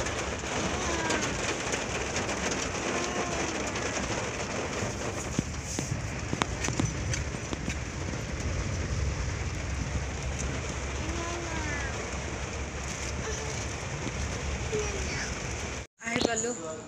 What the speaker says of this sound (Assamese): বহুত ভালকৈ বৰষুণ দিছে